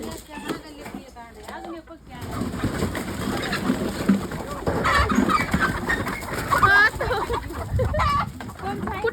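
Chickens cluck intermittently outdoors near a water pond, mixed with other bird calls, while people talk loudly over them throughout.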